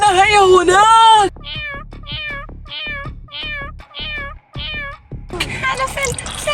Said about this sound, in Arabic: القطة العملاقة السوداء الملعونة هي هناك.